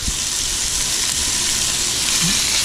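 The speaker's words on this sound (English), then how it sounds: "We're going to want to sear this meat on all sides." Meat for birria tacos searing in a hot pan, a loud, steady sizzle and hiss that holds evenly throughout, close up with no talk.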